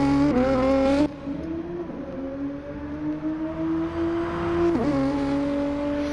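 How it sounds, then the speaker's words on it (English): A Nissan race car engine howls as it accelerates at the Mount Panorama circuit, with a loud, sustained tone climbing steadily in pitch, broken by a brief drop near the start and a quick dip just before the end. "An impressive noise that Nissan makes."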